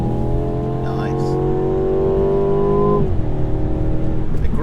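2017 Mercedes C200 coupe accelerating in Sports Plus mode, its engine note climbing steadily then dropping sharply at a gear change, heard from inside the cabin with steady road noise underneath.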